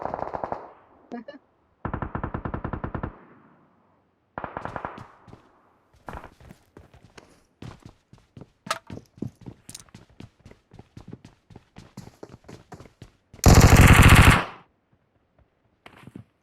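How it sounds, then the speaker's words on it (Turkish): Sharp bursts of automatic gunfire from a weapon in PUBG Mobile, with loud clustered volleys, scattered single shots and a final heavy burst, all heard close up. "tak tuk tak tuk tak tuk kafamı sikiyor bu silah"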